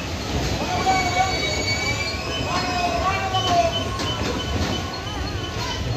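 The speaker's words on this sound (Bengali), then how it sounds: "এখানে ট্রেন।" A children's amusement park train ride rolls past with high metallic wheel squeals over a steady rumble, fairly close and continuous.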